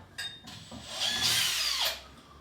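Power drill boring at a sideways slant into a bathroom wall to take a wall plug during a bathroom refit, a close, loud whining burst of about a second after brief starts.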